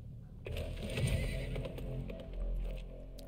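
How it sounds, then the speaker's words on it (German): A horse neighs twice in the Weird West video game, with a whinny near the middle and another toward the end, over a low steady rumble and faint clip-clop, no talking. "Komm, wir nehmen jetzt das Pferd und hauen ab."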